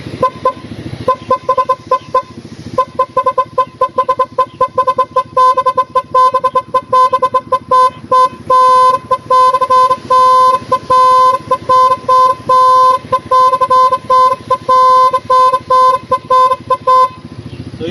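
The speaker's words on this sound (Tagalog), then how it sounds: "ito yung sikat na sikat ngayon na Pop-Up Doll" A Pop-Up Doll horn plays its fourth tone, a loud, bright, buzzing series of rapid staccato toots repeated over and over with short gaps, carrying on alone without any talk.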